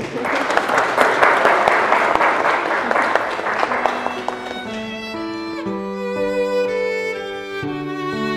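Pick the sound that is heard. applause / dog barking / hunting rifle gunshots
applause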